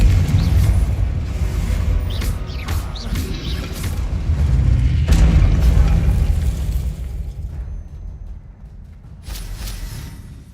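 Fire-spell explosions in the Hogwarts Legacy video game on Xbox Series X: a run of loud, booming blasts with crackling bursts over a constant rumbling game backdrop, easing off toward the end.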